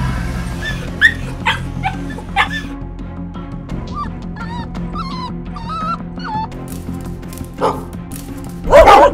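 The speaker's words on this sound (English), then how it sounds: "Stop that damn dog!" Repeated close dog barks, yips and whimpers in the Roblox Brookhaven video game, scattered bursts throughout with a louder flurry at the end and some background noise.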